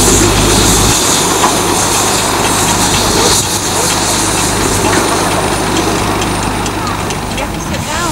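A Cleethorpes Coast Light Railway locomotive runs round its coaches, its engine chugging and rumbling steadily and fairly loud, with people talking nearby.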